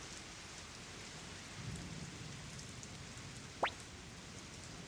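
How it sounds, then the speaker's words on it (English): Steady, soft rain in the video game Suikoden 1 Remaster hisses continuously in the background, with a faint low rumble midway and a brief sharp chirp near the end. "The rain still hasn't let up."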